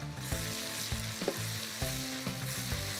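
Onion and garlic frying in oil with cumin, coriander and red chili powder, a steady close sizzle with repeated stirring scrapes and clinks of a utensil against the pan, no talk.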